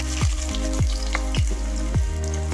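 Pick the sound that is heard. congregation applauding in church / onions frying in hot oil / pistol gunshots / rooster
onions frying in hot oil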